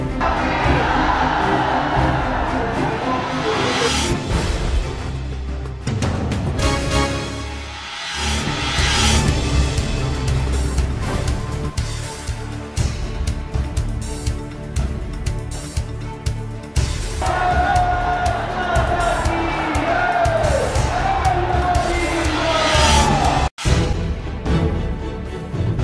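Agitated crowd at a Narendra Modi election rally in Gaya, with a steady roar of many voices and shouting, broken by sharp clatters and sudden knocks as chairs are thrown, heard loud and close throughout.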